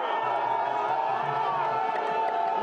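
Egyptian crowd gathered outside the Mubarak trial, cheering and shouting in joy as the former president appears on a screen; a dense, steady roar of many voices, loud and sustained throughout.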